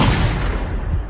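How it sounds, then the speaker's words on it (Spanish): A musket goes off in a single heavy, booming report that fills the moment and rolls away without a clear attack, loud and broad with no voices. "se montaba el gatillo y recién se disparaba"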